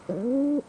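A single soft, low coo from a dove, smooth and sustained for about half a second, close and alone against quiet background.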